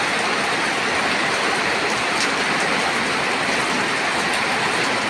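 Heavy rain pours down in a dense, unbroken hiss that stays loud and even throughout, with no other sound standing out.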